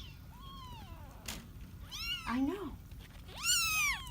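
Several kittens in a room mew in high, rising and falling cries, some overlapping, fairly close and moderately loud, while a person speaks briefly in between.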